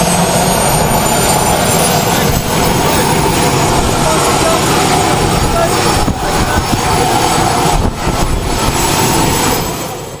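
A skydiving aircraft's engine drones loudly and continuously from inside the cabin before a tandem jump at Rustenburg, with a steady roar and whine that barely varies, close and filling the space.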